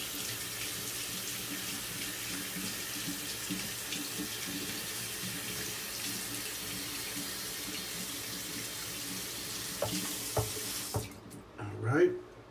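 A tap runs steadily into a sink as a shaving brush is wetted, a close continuous splashing that cuts off near the end, followed by a few soft handling knocks.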